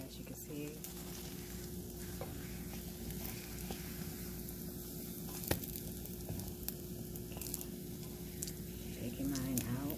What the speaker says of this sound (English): You got to let it fry the way that it is, so that the batter on the outside can really crisp up.